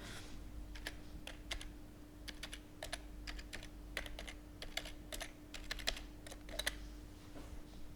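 Rapid keystrokes on a computer keyboard as an email address is entered, a steady run of close, crisp clicks over a faint hum, with no one talking.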